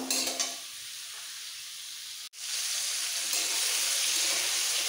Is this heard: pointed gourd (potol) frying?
yes